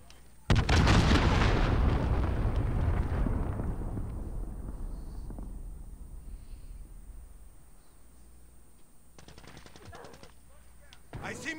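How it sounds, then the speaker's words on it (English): Cruise missile strike in a military video game: a sudden massive explosion booms up close and rolls into a long decaying rumble, followed near the end by sharp bursts of gunfire. "Allied cruise missile on the way."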